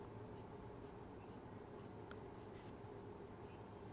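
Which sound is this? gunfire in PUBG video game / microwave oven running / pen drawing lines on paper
pen drawing lines on paper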